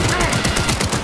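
Rapid bursts of pistol fire ring out in the video game Cyberpunk 2077, several loud close shots packed into about a second.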